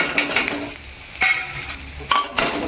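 White sesame seeds and coriander seeds are stirred in a hot pan, with a soft sizzle under scraping and clinking of a spoon against the metal, close by, with no voices.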